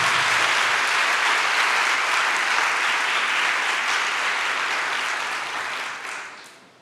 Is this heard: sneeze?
no